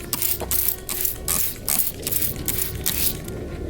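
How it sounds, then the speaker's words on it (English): Several short, sharp hissing sprays burst out in quick succession close by, each a brief airy spurt of soapy water from a spray bottle onto car taillights. "we're gonna spray it down with some soapy water"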